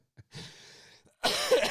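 A man gives a short, harsh cough close to the microphone, after a faint throat sound and a quiet breathy exhale.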